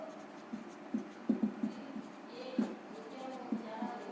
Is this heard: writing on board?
yes